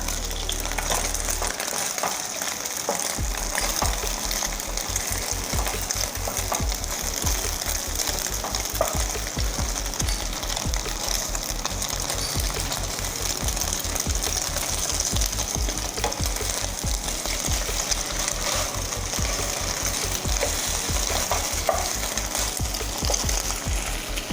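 A Thai omelette frying in hot oil until golden and crispy, giving a dense, steady sizzle and crackle that stays loud and even throughout, close up with no voices.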